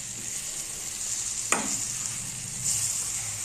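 Dried fish (karuvadu) stirred in a pan for a tangy thokku, a soft steady sizzle with one sharp scrape of the spoon partway through.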